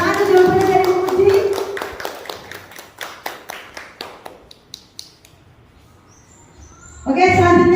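After a voice finishes speaking, a handful of separate, evenly spaced hand claps ring out in a small class or training session. The claps weaken and stop, then talk resumes.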